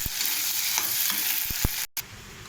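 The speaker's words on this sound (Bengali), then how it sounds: "ভাজা মশলা এই ডিম ভাজাটা দিয়ে দিলাম, ভুজিয়াটা দিয়ে নেড়ে চেড়ে নেব।" Fried spices and egg bhujia stirred in a pan, with a steady frying hiss and a few sharp scrapes of the utensil against the pan, ending in a brief cutout.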